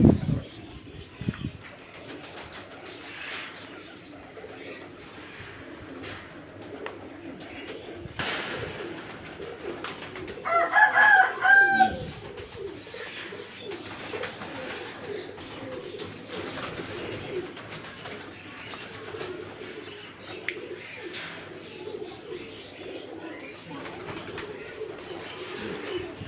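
Pigeons on an Islamabad rooftop coo softly and steadily, with a louder burst of cooing partway through and faint talk and background noise underneath.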